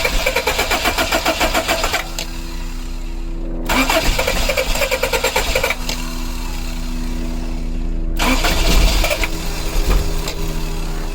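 A 1984-89 Toyota Van Wagon, its fuel pump just replaced, cranks in three loud, steady bursts. Between them are short pauses with a low hum, and the engine churns and catches unevenly toward the end.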